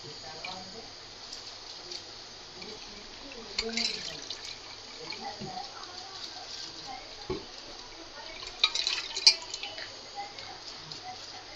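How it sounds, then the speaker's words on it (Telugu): Soaked basmati rice poured into a pot of boiling water, giving soft splashing and bubbling with a couple of louder splash bursts over a steady simmering hiss, while a voice speaks at times. "ఇప్పుడు మనం నానబెట్టుకున్న ఈ బాస్మతి రైస్ వేసేద్దాం."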